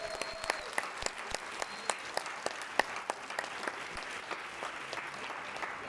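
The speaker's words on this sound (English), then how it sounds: "I think our students deserve another round of applause." Audience applause for youth orchestra students at a winter concert: steady, dense clapping with sharp individual claps standing out, lasting throughout, moderately loud and without talk.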